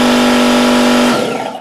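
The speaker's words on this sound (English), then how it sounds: "Next to me is a standard air compressor. And this air compressor is at 90 decibels." A standard air compressor rated at 90 decibels, running as a loud steady motor drone with a strong tonal hum that cuts off and winds down.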